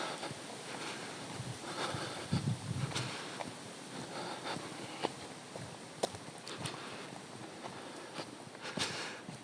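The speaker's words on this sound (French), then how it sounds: "il y a un peu de vent" Outdoor wind buffeting a microphone, a constant low rushing roar with gusts, plus faint scattered footsteps and knocks.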